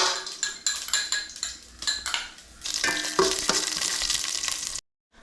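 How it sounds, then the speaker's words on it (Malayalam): Cardamom, cinnamon, cloves and fennel frying in ghee for a beef biryani, with a ladle clanking and scraping against the pot in quick strokes over a bright continuous sizzle that ends abruptly. "ആദ്യം നമുക്ക് കുറച്ച് ഏലക്ക, കറുകപ്പട്ട, ഗ്രാമ്പൂ, പെരുംജീരകം അങ്ങനത്തെ ഐറ്റംസ് നമ്മൾ ആദ്യം ഇതിനകത്തിട്ടൊന്ന് മൂപ്പിച്ചെടുക്കണം"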